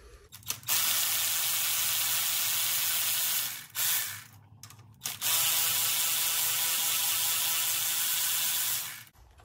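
An air ratchet or impact tool spins out saddle bolts on a 2022 6.7 Powerstroke diesel, two long loud whirring bursts with a short pause between, close by and without talk.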